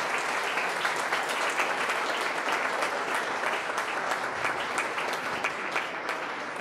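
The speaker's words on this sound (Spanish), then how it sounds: "un aplauso para Román" An audience applauds a lecturer at the close of a course class on the rule of law, steady crowd clapping with distinct individual claps, moderately distant and continuous for several seconds.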